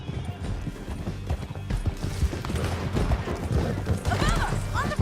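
Horse hooves gallop in Red Dead Redemption 2 during a canyon ride, a steady clattering beat over a dense mix of game noise, with a brief whinny near the end and no clear talking.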